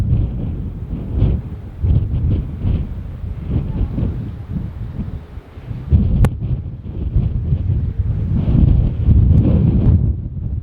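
Wind buffets the microphone atop a castle in Milan in loud, gusty low rumbles that rise and fall irregularly throughout, with no voices.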